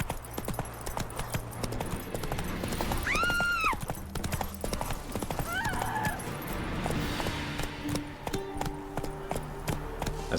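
A horse gallops in the video game The Witcher 3, with rapid rhythmic hoofbeats pounding steadily throughout, broken by a couple of loud whinnies, close and continuous.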